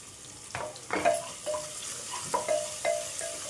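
Onions salted in a pan fry with a soft sizzle, broken by a handful of spaced spatula strokes that scrape and ring briefly. The sound is close and moderate, with no voices.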